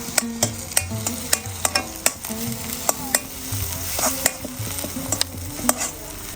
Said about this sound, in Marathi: लसूण हिरवी मिरची पण छान परतून घेतली